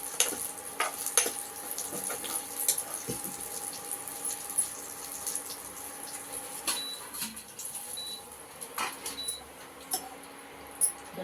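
Tomatoes frying in oil in a pan for tomato roti pachadi, a steady close sizzle with scattered crackles and pops running throughout at moderate level.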